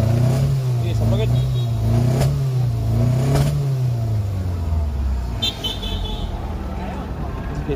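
A car engine revving up and settling under close, loud talk, with a brief horn-like toot partway through.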